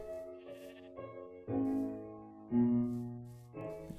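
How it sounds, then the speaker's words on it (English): Sheep in Minecraft bleat repeatedly in wavering, nasal calls, several overlapping at moderate loudness, with no talking. "I hear sheep around."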